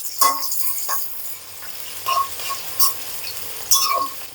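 Garlic and onion fry in a pan for a lentil and water spinach dish, giving a soft, low sizzle broken by several sharp scraping and stirring clatters spaced irregularly throughout.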